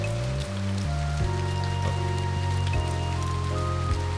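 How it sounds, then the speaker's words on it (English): Rain sound effect from the visual novel One: a constant wash of falling rain under sustained, stepping background music tones, with no voices. "All I can hear is the sound of the rain."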